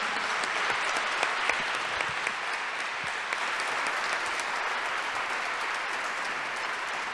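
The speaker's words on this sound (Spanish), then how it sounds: "damos un fuerte aplauso" Audience at a university lecture hall in Guadalajara breaks into sustained applause after a lecture, a dense even patter of many hands continuing steadily without a break.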